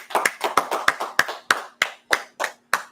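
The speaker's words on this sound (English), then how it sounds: "Lakia, let's clap it up." Evening law class clapping in unison, ten sharp, evenly spaced group claps in a steady rhythm, close and loud with brief silence between each.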